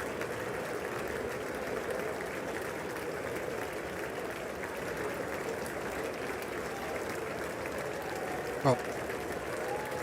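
A large chamber audience at the State of the Union address applauds in a continuous, distant wash of clapping, steady throughout with one brief sharp knock near the end, while a voice occasionally talks over it.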